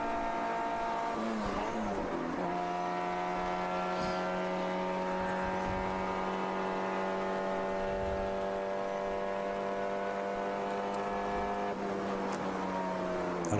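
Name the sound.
ChampCar endurance race car engine below full throttle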